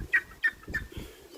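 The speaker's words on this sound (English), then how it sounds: "our seagulls are freaking greedy" Seagulls squawking while greedily eating alongside pigeons, three short sharp calls close by, each separated by brief pauses.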